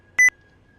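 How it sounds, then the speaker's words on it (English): A short electronic double beep from a NASCAR racing video game, two quick tones close together, sharp and clear over near silence. "try to turn down that beeping noise"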